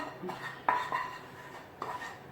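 A frying pan holding curry chicken topping for a pizza is handled as the topping is poured out, giving a couple of light metallic clinks and soft knocks over a faint, steady kitchen background.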